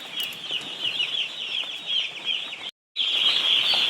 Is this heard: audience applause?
no